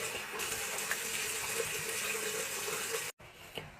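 A pestle washed under a running kitchen tap, steady splashing water flowing close by for about three seconds, then cutting off abruptly before a brief softer trickle.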